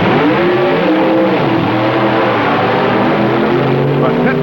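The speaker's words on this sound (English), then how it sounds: "But Pittman blasts by to take the run, having whipped an outstanding field along the way" A supercharged A-Gas drag racing car from 1965 roars loud and close, its harsh engine howl shifting in pitch as it blasts down the strip, with a voice commentating underneath.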